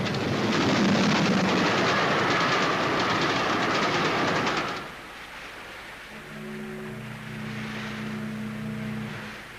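A train runs on its rails with a loud, steady rumble and rhythmic clatter that drops away midway, leaving a quieter interior hum with a low tonal drone, with no talk over it.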